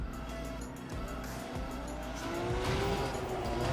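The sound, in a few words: car drifting with tire squeal in The Crew 2 video game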